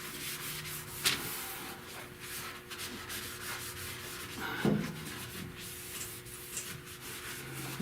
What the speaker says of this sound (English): a piece of sandpaper, and just sand that all flat